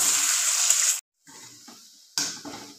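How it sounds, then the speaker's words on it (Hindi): Paneer fries in refined oil in a kadai, a loud steady sizzle that cuts out abruptly, then returns more quietly with light stirring clinks before surging again. "पनीर को ज़्यादा फ्राई नहीं करना है, हल्का गोल्डन कलर होने के बाद हम इसे निकाल लेंगे"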